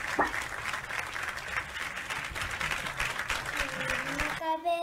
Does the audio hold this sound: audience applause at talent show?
yes